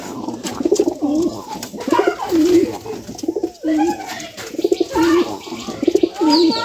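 Pet pigeons kept at home coo close by, with loud, repeated rolling calls coming in quick, rhythmic bursts that overlap one another throughout.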